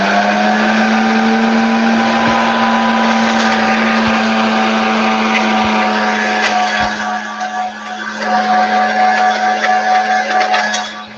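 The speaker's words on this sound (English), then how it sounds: "So now I'm just gonna blend everything, same settings that we used before." A kitchen blender on speed 5 whirs through a thick cocoa butter skincare mixture for about 20 seconds, giving a loud, steady motor whine that dips briefly near the end before surging again; no one talks.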